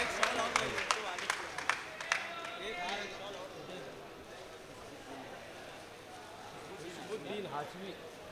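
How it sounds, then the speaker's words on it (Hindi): An audience claps for guests at an All India Mushaira poetry gathering in Malegaon. A burst of crisp, scattered handclaps opens, then fades into a steady crowd murmur with a voice speaking over it. "जोरदार तालियां बजाएं एक बार।"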